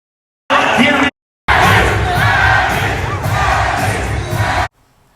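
An arena crowd at Manny Pacquiao's fight against Barrios roars and chants loudly in two surges: a short burst, then a brief pause and a longer, sustained mass shout before it cuts off.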